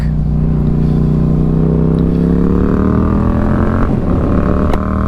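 A 2024 Yamaha MT-07 motorcycle being ridden, its engine a loud, steady drone close by with rising and falling pitch as it changes speed, accompanied by wind rush and no voices.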